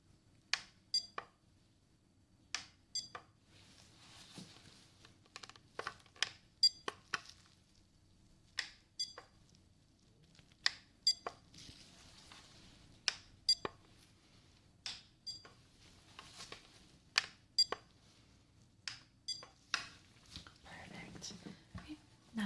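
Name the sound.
beep tones for ASMR hearing test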